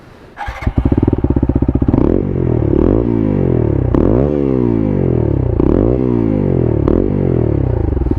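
A TVS Apache 200 BS6 motorcycle with an SC aftermarket exhaust starts up and revs hard and close, each throttle blip rising and falling in a loud, raspy rhythm.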